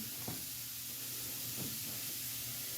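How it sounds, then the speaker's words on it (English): Four ounces of bacon sizzle in a pan, a faint, steady hiss with soft crackle and an occasional pop, heard alone. "Cooking 4 ounces of bacon is step 1"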